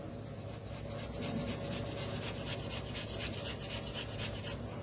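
Two potatoes grated by hand for a snack batter, a steady, rhythmic rasping with quick repeated strokes, fairly faint and close, with no speech.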